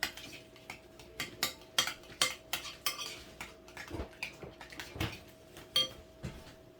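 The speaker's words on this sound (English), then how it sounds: "Mix that on up." A utensil scraping and clinking against a pan while seasoned food with salt and pepper is stirred, a quick run of sharp close taps and scrapes over a faint background hum.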